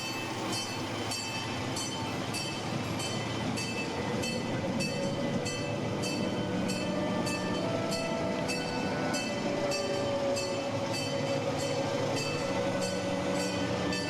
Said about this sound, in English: I'm going to get on this train like a big kid